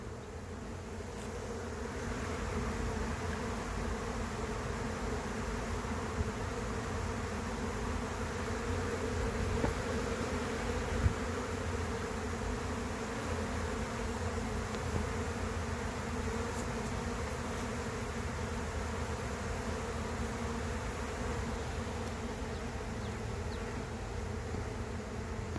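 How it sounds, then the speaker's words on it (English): Large honey bee swarm leaving a hive near a pear tree, a dense, continuous buzzing hum that stays steady and fairly faint throughout, with no talk. "It's going to be another big swarm, it looks like."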